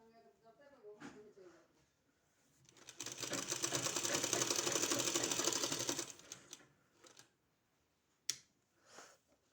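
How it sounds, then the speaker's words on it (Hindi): A sewing machine stitches a pant seam in a steady, fast whirring run of about three seconds, close by, with a voice speaking quietly before and after and a few light clicks. "यहाँ हमको पैंट में सिलाई लगाना है"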